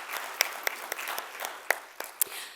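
Sparse, quiet applause for mental health research grant recipients, a thin scattering of distinct claps and light patter at a distance, with a few louder individual hand claps standing out.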